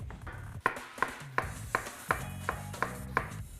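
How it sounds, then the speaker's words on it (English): A knife slices through a red onion on a board in eight evenly spaced, crisp cuts, each a sharp tap against the board, close up and with no talk. "we're going to go ahead and slice a red onion"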